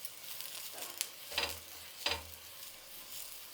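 Cut onion rubbed over a hot oiled griddle pan, with two distinct bursts of sizzling as it is pressed and dragged, then a faint lingering hiss.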